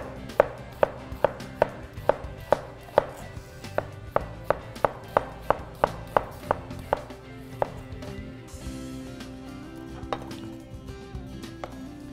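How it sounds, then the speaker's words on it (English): A knife slices a peeled, halved red onion thinly on a cutting board, with quick regular knocks of the blade that slow and thin out later, close and crisp. "So we peeled the red onion and we cut it in half. I'm just going to slice it down like this,"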